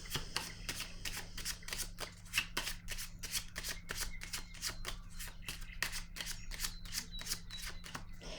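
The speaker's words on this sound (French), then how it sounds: "Je vais piger une autre carte." Playing cards being shuffled by hand, a rapid run of crisp riffling snaps at a steady rhythm, close and clear with no talk over it.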